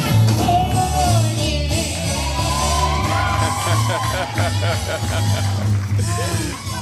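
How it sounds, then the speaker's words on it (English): A theatre audience cheers and whoops after a song, loud and sustained with yells and shouts rising over a low musical bed, while people speak over the noise. "And the crowd goes wild."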